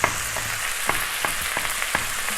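Sliced onions fry in a hot wok with a steady, bright sizzle, broken by a few sharp pops and crackles, close and fairly quiet with no voices.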